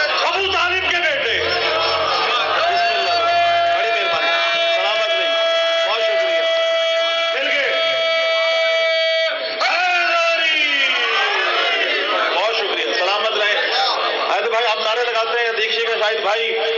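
A large crowd at a Shia poetry majlis in Multan chants religious slogans in loud, continuous unison, with many voices blending into a sustained roar that briefly drops out midway before resuming just as strongly.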